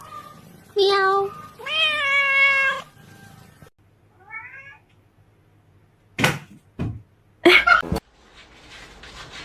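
A cat meows a few times in clear, close, drawn-out calls, followed by scattered knocks and bumps.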